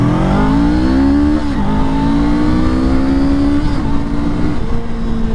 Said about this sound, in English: let's start things off on this SCL500 with a little acceleration test here